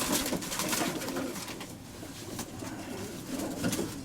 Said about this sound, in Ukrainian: Ось така голубка.